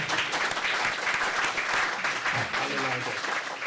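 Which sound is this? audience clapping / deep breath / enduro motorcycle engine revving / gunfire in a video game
audience clapping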